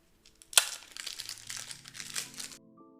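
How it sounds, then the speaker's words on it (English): Wrapped pack of cards for a Dark Souls board game expansion being torn open, with a sharp rip followed by continuous close crinkling of plastic wrap, then quiet. "Now let's open the first pack of cards."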